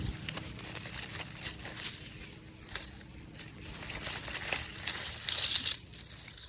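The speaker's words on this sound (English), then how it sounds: "I'm going to cut in between each one of these sort of shoots." Hosta bulbs being cut apart between their clove-like shoots during division, giving close, soft crinkling and tearing crackles that come in irregular bursts and swell louder toward the end.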